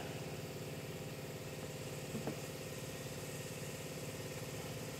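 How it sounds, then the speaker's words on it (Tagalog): A Toyota Land Cruiser V8 3UR engine idling steadily, a loud, even mechanical hum and rhythmic throb heard close up throughout, with a brief small knock partway through. "So itong makina na to mga kaibigan ay 3UR."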